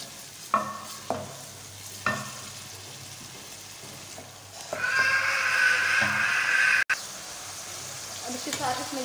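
Mangochiyan frying in hot oil in a home kitchen pan, with a few sharp clatters early on, then a steady loud sizzle building midway and continuing to the end.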